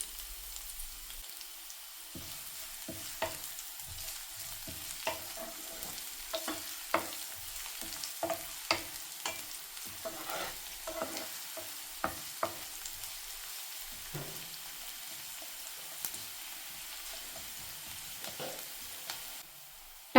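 Finely chopped onions fry in a pan for Indo-Chinese chicken lollipops, a soft continuous sizzle broken by repeated scraping and tapping stirs at an uneven pace, fairly quiet and with no talking.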